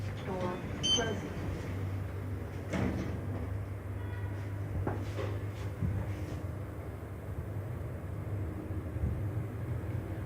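A Schindler 3300 AP scenic elevator in Denpasar, Bali closes its doors: soft mechanical clunks and brief sliding knocks over a constant low machinery hum, moderately quiet throughout.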